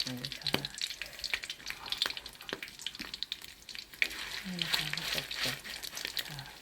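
Thai fish cakes made with shredded kaffir lime leaves fry in hot oil, giving a steady close sizzle and crackle with a few clatters and scrapes from a spoon, while someone talks over it.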